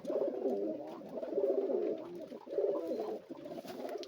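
A flock of pigeons, small and large ones squabbling among themselves, keeps up a steady, low rolling coo in repeated waves, fairly near with no talking.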